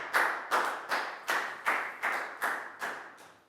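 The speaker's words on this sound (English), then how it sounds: "big round of applause for Pangpon." A Year 4 class in a science lesson claps together in a steady rhythm, with about eight sharp, evenly spaced group claps, each fading quickly. The claps are near and moderately loud, with no talking.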